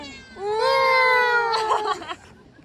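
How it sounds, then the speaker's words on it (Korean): A cat gives one long, loud, whining meow close by, followed by a short rough trailing cry, with soft ambient sound around it. "고양이 여기 있나 본데"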